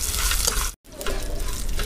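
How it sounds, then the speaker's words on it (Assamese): Garlic, dried red chillies and ginger frying in a pan, a steady, dense sizzle close up that cuts out for a moment while being stirred, then resumes. "মই এইখিনি আকৌ ভালকৈ অকণমান সময় ভাজি ল'ম"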